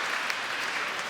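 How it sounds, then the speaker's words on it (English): Sustained applause from the audience at the launch of a development commission, a dense, even wash of clapping filling the room throughout with no gaps. "clap for them again"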